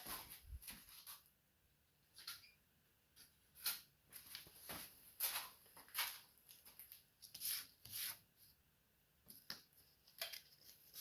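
Quiet, repeated scraping strokes of sanding by hand, coming in uneven bursts with brief pauses, close and fairly soft.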